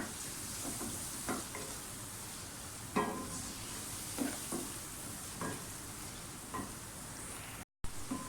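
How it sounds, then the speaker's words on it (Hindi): Mutton pieces fry with ground spices in a pan, a steady close sizzle broken by occasional spoon scrapes and clinks as the meat is turned, fairly quiet with no talk. "पाँच मिनट हो गए गोश्त भूनते हुए।"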